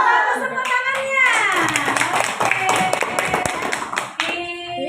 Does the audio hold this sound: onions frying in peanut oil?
no